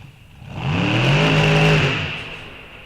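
Early Hemi-powered full-bodied drag car at Rock Falls Raceway accelerating hard down the strip on a license run, a loud rising engine roar that swells, peaks and fades as it pulls away, no talk over it.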